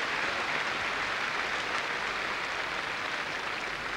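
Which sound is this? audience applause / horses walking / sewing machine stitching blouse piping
audience applause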